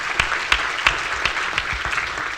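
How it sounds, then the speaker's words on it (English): An audience at a medical panel discussion gives applause. The clapping is steady and fairly close, with a few sharper claps standing out, and nobody speaks over it. "Give her a round of applause."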